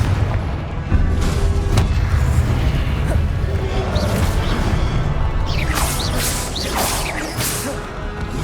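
Confringo blasting spells explode in the Hogwarts Legacy video game, dense rumbling booms and crashes layered with whooshing magical streaks and rising whistles, loud and continuous throughout.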